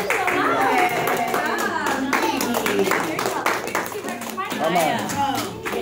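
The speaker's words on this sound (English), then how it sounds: "Can we clap for a good class?" A small group claps after a girls' dance class, steady patters of hands running throughout while children's and adult voices chatter over them.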